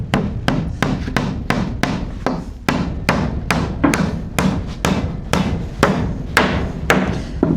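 Hammer blows nail down boards while a house floor is being laid, roughly a dozen sharp, evenly spaced strikes landing near and loud over a steady low background.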